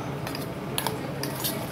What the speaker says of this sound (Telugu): ఇది ఇలా బాగా మిక్స్ చేసుకోవాలి.